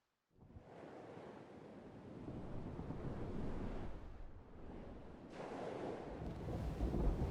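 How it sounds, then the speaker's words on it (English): A stormy sea heard while sailing in Mount & Blade II: Bannerlord, a continuous, loud roar of wind and crashing waves that swells and surges for several seconds. "So it looks like we're sailing through a storm."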